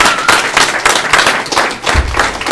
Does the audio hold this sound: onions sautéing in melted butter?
no